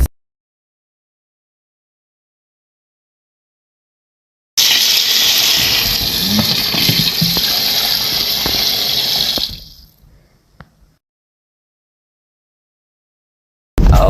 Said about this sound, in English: here's where I am rinsing the trotters off after the pre-boil, giving them a good rinse